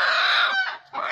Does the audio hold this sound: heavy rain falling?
no